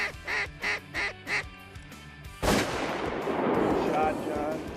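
Loud shotgun blast from a Winchester Super X3 on an Arkansas duck hunt, preceded by several rhythmic duck calls, followed by a long echoing wash of noise and wingbeats.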